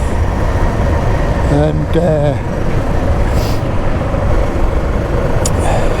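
A Suzuki DR650SE motorcycle rumbles steadily along a corrugated forest trail, its engine and road noise loud and continuous throughout, with a single brief spoken word near the start.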